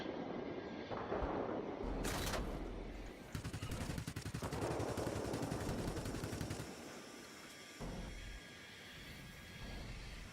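Aircraft guns fire in World of Warplanes from a Tier X Russian Ilyushin IL-40P attack aircraft: rapid bursts of automatic gunfire in several stretches over a droning engine, loud and close, with no talking.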